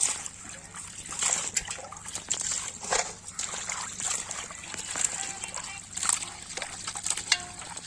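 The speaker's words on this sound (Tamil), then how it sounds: "இப்ப அலசிக்கலாம் வாங்க." Raw chicken pieces for a curd chicken pachadi are rinsed in plenty of water, with continuous trickling, splashing and sloshing close by at a moderate level.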